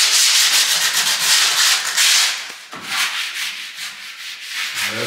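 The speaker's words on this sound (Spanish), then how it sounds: "Esta es lija con esponja." Sponge sandpaper scrubs back and forth over wood: steady, close, rasping strokes that run almost continuously, with a brief slackening midway and no voices.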